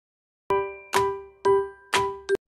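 Notification bell sound effect: four bright, ringing metallic dings in quick, even succession, each with a sharp strike and a short decaying tone, followed by a fifth clipped hit right at the end.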